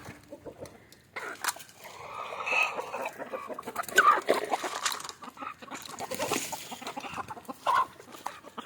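Free-range country chickens cluck steadily outdoors, with overlapping bird calls rising and falling at moderate distance, a few sharper squawks standing out, and no voices.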